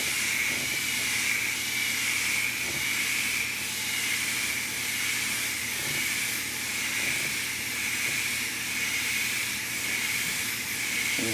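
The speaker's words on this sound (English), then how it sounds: "I'm back way off and just really lightly mist this on." Transparent gold toner being lightly misted from a spray can onto a sculpture from well back, a steady, loud continuous hiss that holds throughout without pause.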